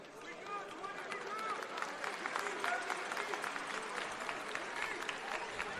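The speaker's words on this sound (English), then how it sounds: "Big House crowd gives her a nice round of applause as she's helped off the floor" A crowd at a girls' state high school basketball game applauds an injured player as she is helped off the court: steady, distant clapping under a commentator's voice.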